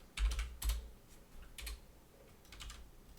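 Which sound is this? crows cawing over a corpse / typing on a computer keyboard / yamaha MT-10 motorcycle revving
typing on a computer keyboard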